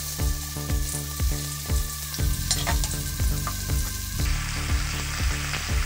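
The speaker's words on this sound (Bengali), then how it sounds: "সামান্য একটু হলুদের গুঁড়ো দিয়ে ভেজে নেবো উচ্ছেগুলো" Bitter gourd frying in oil in a wok with cumin seeds and salt, giving a loud constant sizzle and crackle that runs throughout, punctuated by regular rhythmic stirring knocks of a spatula against the wok.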